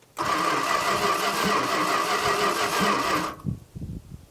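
An old Chrysler starter cranks the engine of a long-unstarted Dodge Monaco, a loud rapid whirring grind lasting about three seconds before it cuts out, followed by a few uneven knocks and sputters.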